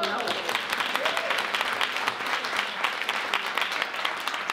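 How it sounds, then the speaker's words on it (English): Dense, continuous applause from an audience at an opening ceremony honoring an author, many hands clapping steadily at moderate loudness with a faint cheer at the start. "A round of applause on that"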